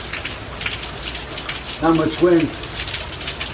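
Heavy rain falls steadily on surfaces during Hurricane Francine in Algiers, Louisiana, a constant broadband wash throughout, with someone speaking briefly over it midway.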